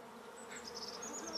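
Honey bees buzz around beehives at a beekeeper's apiary, a faint, steady hum with a few passing wingbeats, no talk.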